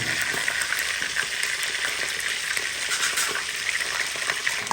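Onions sizzle steadily in a pan while cooking a tomato mussel dish, a dense, continuous frying hiss that stays close and even throughout with no voices.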